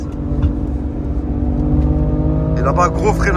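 A BMW M5 accelerates at full throttle on the Nürburgring circuit, its engine droning steadily and fairly loud, with a voice speaking over it near the end.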